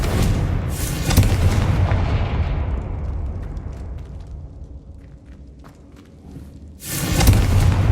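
A Confringo spell explosion in the game Hogwarts Legacy goes off as a loud booming blast that rumbles and fades over several seconds, then a second heavy boom hits near the end.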